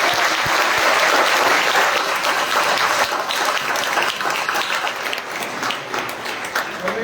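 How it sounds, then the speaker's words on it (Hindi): A church congregation applauding loudly during a gospel service, dense and sustained clapping from a large crowd that fills the space and eases slightly toward the end, with some crowd murmur underneath. "जोरदार तालियां हम यीशु के लिए बजाएं"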